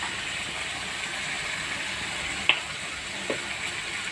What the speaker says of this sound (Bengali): এবার একটু কষিয়ে নেব সামান্য নুন হলুদ দিয়ে।